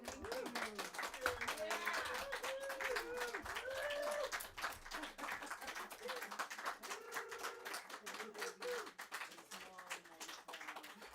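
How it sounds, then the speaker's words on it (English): A small audience claps after a poetry reading, a scattered patter of hands running the whole time, with a voice talking over it. "The crowd goes wild."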